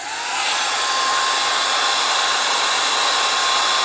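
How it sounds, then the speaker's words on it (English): A blow dryer runs steadily and loudly throughout, a continuous airy whoosh with a constant motor whine, used for drying lashes after brushing with rose water. "Let me use the blow dryer again."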